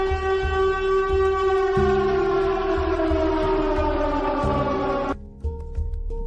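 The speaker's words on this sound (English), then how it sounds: "Sound the alarm." A loud wailing alarm siren sound effect holds steady, then drops and cuts off near the end, with a rhythmic low pulsing underneath.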